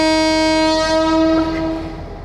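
A loud, sustained train horn sounds in a Turkish radio drama as a train departs, one steady tone that fades slightly toward the end.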